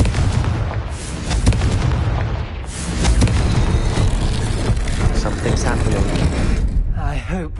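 A Confringo fire spell blasts in Hogwarts Legacy, the explosion's loud boom and rumble filling a dense, continuous wall of game combat noise for several seconds.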